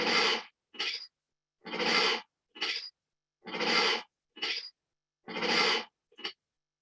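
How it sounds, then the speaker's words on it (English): A friendly tiger chuffs through its nostrils in four paired puffs, each a breathy burst followed by a shorter snort, evenly spaced, close and clear with silence between. "it's called prusting or chuffing, which is a sound made by a friendly tiger to greet its friends and caretakers"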